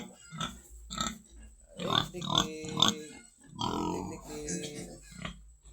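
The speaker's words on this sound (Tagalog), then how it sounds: "Ito po yung gawin natin inahing baboy." A young sow being raised for breeding grunts repeatedly at close range in a rhythmic series of short snorts, with a person talking over part of it.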